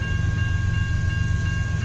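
A CN freight train rolls past close by in Kimball Township, a loud, steady rumble and roar of rail cars with no pause.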